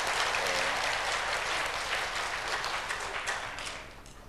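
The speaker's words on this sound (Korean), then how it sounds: "우리 관과현 또 우리 찬양대 우리 박수 한 번 더 하겠습니다" A church congregation applauds the choir and instrumental ensemble, full and even at first, then gradually tapering and thinning toward the close.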